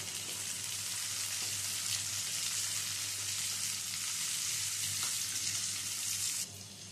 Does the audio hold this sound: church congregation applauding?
no